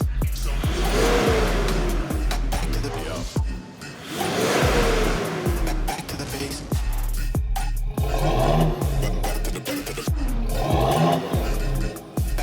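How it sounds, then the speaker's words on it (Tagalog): A tuned Toyota Fortuner with a full exhaust and Spitfire Thunder muffler revs up repeatedly, each rise swelling into a throaty roar and falling back to a deep burbling idle, close and loud. "tapos ito nakapalit na ng full exhaust using Spitfire muffler. Ito po yung sound check."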